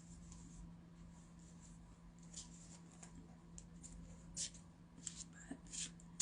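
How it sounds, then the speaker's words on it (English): Fairy oracle cards being shuffled by hand, heard as faint, soft papery riffles and light taps in a quiet room, with a few crisper flicks near the end. "But I'm actually shuffling fairy cards right now."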